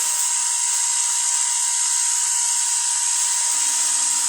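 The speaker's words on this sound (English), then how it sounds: "The generator rotor here is trailing in rotation to this rotor" A generator rotor spins steadily beside a second rotor in an air-gap test rig, giving a continuous high, thin whir that stays even and unbroken throughout.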